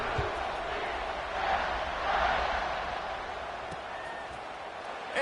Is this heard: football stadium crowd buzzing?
yes